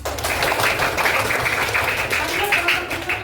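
Classroom applause, a steady wash of many hands clapping continuously throughout, fairly loud and close, with voices mixed in underneath.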